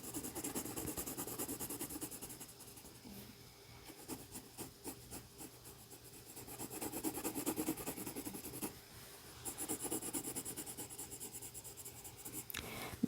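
A sharpened pencil drawing on paper, a soft continuous scratching and rubbing that swells and fades with the strokes, close and steady with no speech.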